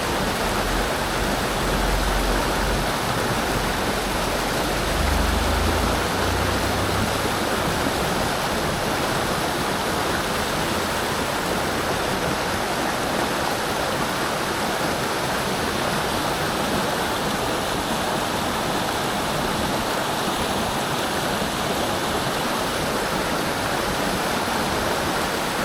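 Broad, constant roar of white water rushing over rocks on the River Birs in Switzerland, loud and close, steady for the whole stretch without voices.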